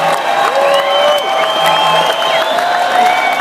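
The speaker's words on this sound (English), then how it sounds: "Let's hear one last round of applause for our contestant" An audience cheers and applauds with whoops and crowd noise, loud and continuous, while tonal sliding sounds run through the mix.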